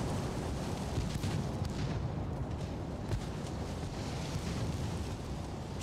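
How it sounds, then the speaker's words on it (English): Naval broadside artillery fire from warships in the video game Ultimate Admiral: Dreadnoughts, a dense, steady rumble of heavy gunfire and booms with no clear separate shots, fairly distant and continuous throughout. "I'm just going to tell these guys to let loose with some broadsides on these merchants."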